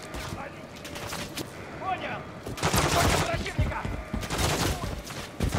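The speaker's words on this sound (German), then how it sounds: "ich muss einfach mit der Waffe hier schießen aus der Distanz" Bursts of rapid gunfire from a weapon shot at range in Call of Duty Modern Warfare 3, loud clustered volleys breaking out in the second half, with a voice speaking over earlier quieter moments.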